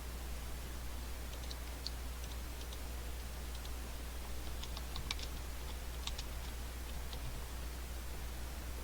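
Someone types in quick bursts on a computer keyboard, with faint, close key taps over a steady hiss of background noise and no voices.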